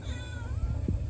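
A kitten gives a single short, high meow on a farm, close and fairly clear over a low background hum.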